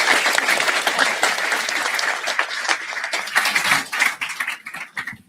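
Applause from a conference audience at GambleAware's annual gambling-harm event: dense, loud clapping that thins out and fades toward the end, with no talk over it.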